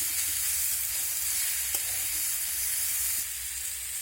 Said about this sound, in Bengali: পেঁপেটাকে দিয়ে আমি আবারও একটু নিয়ে ছেড়ে এগুলোকে ভেজে নেব